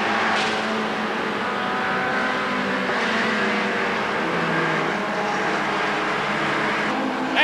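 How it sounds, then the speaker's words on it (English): Touring cars race in a 1990 British Touring Car Championship round, with a dense, continuous roar of several engines near a chicane, steady and loud with slight shifts in pitch as cars pass. "At the chicane, it's the BMW Brigade, and Jeff Allen is recovering superbly."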